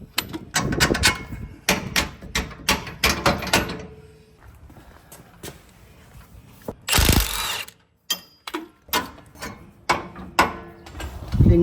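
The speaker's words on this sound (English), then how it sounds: "using my 21mm socket and 24mm wrench, I'm going to go ahead and remove the bolts securing the upper control arm to the axle." A 21mm socket and wrench working on the upper control arm bolts of a Jeep Gladiator axle: rapid bursts of close ratchet clicking, pausing for metallic clanks and knocks, then further short ratchet strokes.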